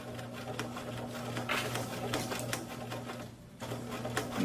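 A sewing machine stitches fabric with a steady motor hum and quick rhythmic needle clatter, close and fairly quiet, with a brief pause partway through.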